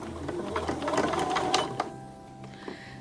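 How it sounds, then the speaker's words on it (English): Sewing machine stitching across a quilt block, a rapid mechanical whir of needle strokes lasting about two seconds before slowing and stopping, followed by faint clicks. "what is important is that you now sew across to the next line and stop on that"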